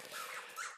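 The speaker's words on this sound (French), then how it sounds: "c'est mon chien qui s'amuse avec son jouet" A pet dog playing with its toy gives a short, high whining squeal that rises twice over less than a second, close and fairly loud, with no talk over it.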